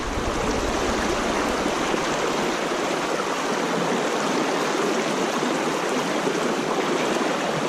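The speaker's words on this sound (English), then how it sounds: "It's pretty fast water right now though." Fast-flowing, deep river water beneath a tree rushes in a loud, steady, broadband roar that never lets up, with no voices.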